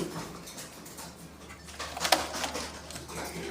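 Fancy pigeons cooing in a loft, a soft low coo under steady background noise with a brighter burst partway through.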